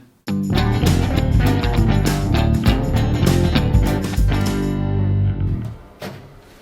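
A short jingle, a dense, distorted electronic musical excerpt with steady sustained tones and layered harmonics, loud and continuous, ending in a brief fade after about five seconds.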